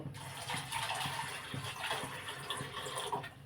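Water poured into a cooking pot holding washed masoor lentils, a steady gushing pour running throughout at moderate level, with no talking.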